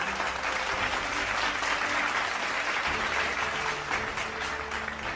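An outdoor crowd at a Dhaka charity run's prize ceremony gives sustained, dense applause for the first runner-up, loud and continuous with no break.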